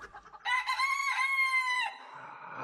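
Rooster crowing as a sound effect in a Romanian radio drama set at a castle, a single loud, drawn-out cock-a-doodle-doo close by, fading into a quiet room tone.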